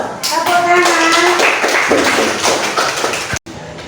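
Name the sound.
class clapping hands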